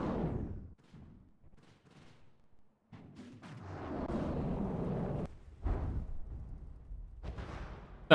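Artillery shells fire and hit with deep booms and rumbling blasts in the naval combat game From the Depths. A strong opening blast is followed by scattered smaller thuds, then a long rolling barrage and another sharp burst.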